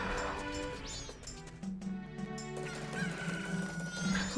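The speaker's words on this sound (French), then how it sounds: "on attend encore la petite poule" Cucco chicken clucks from Zelda: Majora's Mask, mixed into busy game music and effects, with a steady level throughout.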